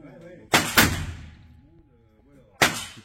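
Two loud, sharp revolver shots from a Ruger Super Redhawk .44 Magnum, fired about two seconds apart outdoors, each a hard crack with a long rolling echo trailing off, and a faint murmur of voices between them.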